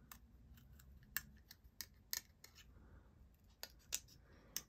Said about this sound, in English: Cut out the one part of the wing.